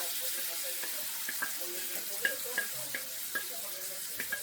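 Onion and mustard seeds frying in a pan, a steady sizzle broken by small sharp pops and crackles scattered irregularly, fairly close and moderately loud.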